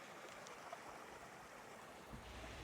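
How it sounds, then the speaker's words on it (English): A small waterfall on a creek rushes in a steady, soft, hissing wash of water, faint and even throughout with no voices. "Oh my gosh, look at the little waterfall."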